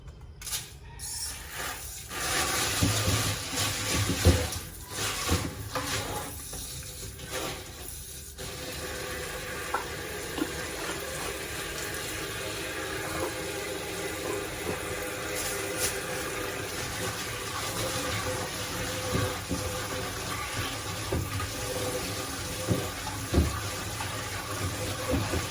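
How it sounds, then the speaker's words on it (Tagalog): Water runs steadily over guyabano leaves soaking in salt for tea in a home kitchen, a continuous close pour with some clinks and handling noises at the start. "Lagyan ng tubig."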